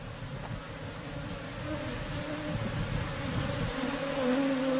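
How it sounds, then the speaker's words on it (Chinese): A swarm of thousands of honeybees in flight around a person in a protective suit, a dense continuous buzzing drone with shifting pitch, steady and close, growing slightly louder toward the end. "看到成千上万只蜜蜂朝自己飞来"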